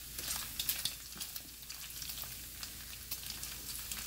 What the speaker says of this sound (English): I'm browning this bacon that I've cut up in small pieces.